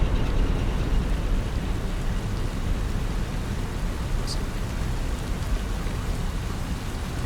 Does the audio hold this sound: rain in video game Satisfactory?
yes